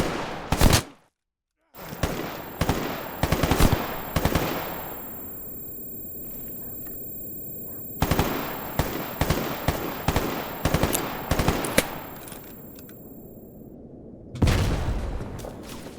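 Gunfire in the game Stalker Gamma rings out as loud, close bursts of rapid shots with sharp reports, separated by pauses and brief dropouts, with ringing tails after the volleys.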